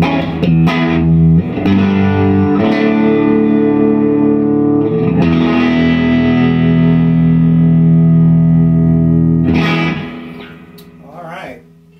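An electric guitar played through an Ironhorse Heritage 1x12 combo amplifier with a WGS ET65 speaker and a reverb pedal, with loud, sustained, distorted notes and chords that ring out in a reverb wash before a brief quieter tail.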